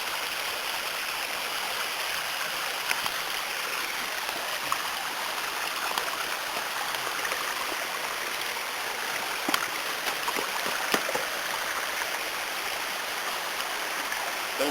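Waterfall and flowing stream at Lafferty Spring Branch, a steady broadband rush of falling and running water, continuous and fairly close, with a few faint clicks and knocks over it and no talk.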